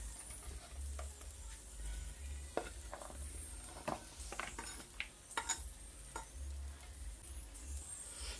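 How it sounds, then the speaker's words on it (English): Onion, sweet pepper, tomato, carrot, hot pepper and garlic are stirred in a pot for Jamaican brown stew chicken, with repeated scraping clinks over a quiet, steady sizzle. "Now I'm gonna mix it up all together."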